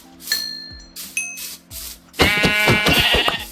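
Sheep in the Minecraft video game bleat in a few short, clear calls, followed by a dense burst of blocky game sound effects. No one speaks.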